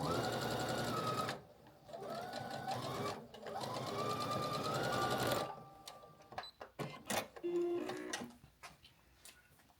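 A sewing machine chain-piecing quilt blocks runs in steady stitching bursts with short pauses between them, followed by scattered handling clicks and light rustling near the end.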